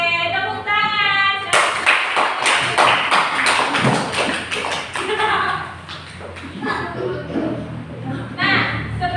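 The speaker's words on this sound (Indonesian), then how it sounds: "Oke, tepuk tangan." A group of students claps together during a classroom session, a burst of dense hand claps that swells then tapers, with voices talking over and around it.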